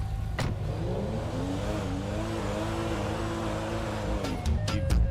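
A Rolls-Royce Phantom in the video game GTA 5 hums steadily, its engine pitch rising and falling gently at moderate revs, with a few brief clicks near the end and no talk.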